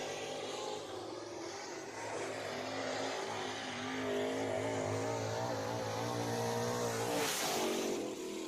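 A race car runs a qualifying lap at Deep South Speedway. Its engine holds a loud, sustained roar that climbs slightly in pitch as it passes, then briefly surges near the end.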